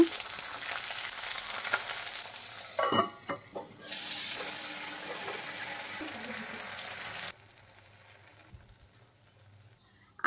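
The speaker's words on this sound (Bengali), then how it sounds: "কাঁচা আম, টমেটো, রসুন, কাঁচা লঙ্কা অল্প একটু নিমখ দিয়ে ভেজে নেব" Raw mango, tomato, garlic and green chilli with a little salt frying in mustard oil in a kadai, loud continuous sizzle with a few stirring clatters midway, then dropping to a quieter simmer near the end.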